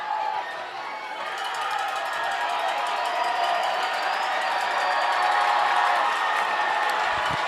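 Home crowd at a Bountiful high school football game against Orem cheering late in the game, a loud sustained roar that swells slightly and stays unbroken throughout.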